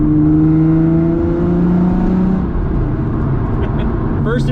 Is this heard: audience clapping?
no